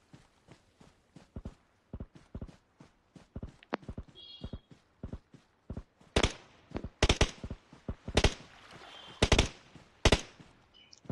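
PUBG gunfire on the Sanhok map comes as sharp, irregular cracks, single shots and quick clusters, some louder and nearer, others fainter, spread over the whole stretch.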